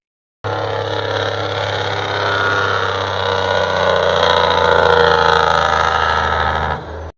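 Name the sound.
Cummins diesel Jake brake through unmuffled chrome stacks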